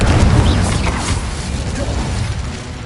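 Explosive Bombarda spell blasts in the video game Hogwarts Legacy, a loud booming burst followed by crashing, rumbling debris that fades gradually over a few seconds, with no voices.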